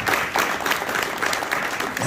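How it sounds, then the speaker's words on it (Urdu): An audience applauds at an Eid Milan mushaira, a brief burst of dense, steady clapping from a crowd in a hall, fairly loud and close. "ان کے لیے بھی کچھ تالیاں ہیں"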